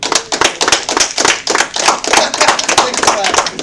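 A small comedy club audience claps for the comedians with a quick, uneven patter of close hand claps, with some talk mixed in.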